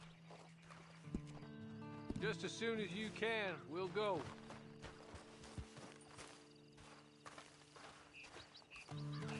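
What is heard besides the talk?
horse hooves clip-clopping in a video game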